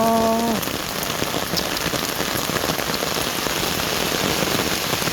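Heavy rain with large drops pelting a surface in a dense, continuous patter, loud and close, with a brief tonal sound at the very start.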